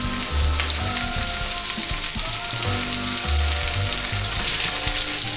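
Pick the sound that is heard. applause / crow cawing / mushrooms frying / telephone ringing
mushrooms frying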